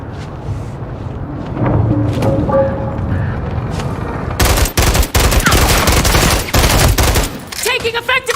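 Dense automatic gunfire rattles in Call of Duty Modern Warfare III. Sustained bursts from several weapons overlap loudly over a steady battlefield rumble, and a voice calls out faintly beneath the fire.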